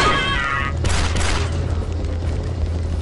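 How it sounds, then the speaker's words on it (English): In the Republic Commando video game, flashbang grenades go off with a sharp hissing burst followed by a deep booming rumble. A high ringing tone fades beneath it, and no voices are heard. "Yeah, those were definitely flashbangs."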